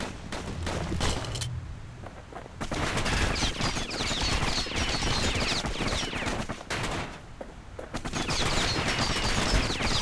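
Enemy pincushion creatures fire in the video game Bastion in dense, rapid volleys, loud and sustained bursts of shots that pause briefly and resume.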